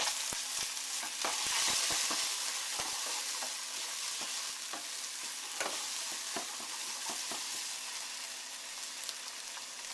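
Raw shrimp and scallops sizzle in hot oil in a pan, a bright continuous hiss with scattered crackles and occasional stirring clicks, close and steady with no talking.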